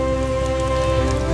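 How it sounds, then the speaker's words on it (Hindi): Steady rain falling, heard as a dense, continuous patter with a loud, even wash and no break, alongside sustained tonal background sound. "चलिए पिताजी, बारिश तेज हो रही है।"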